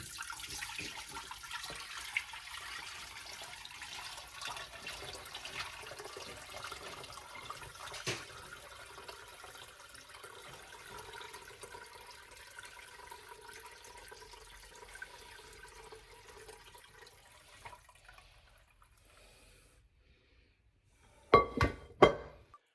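Bone broth trickles through a small tiny strainer, a soft, faint liquid pouring and splashing that fades toward the end, followed by a couple of brief louder clinks.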